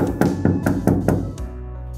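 A series of firm knocks on a door, about six evenly spaced raps, close and loud, followed by a quieter thud, with no talking.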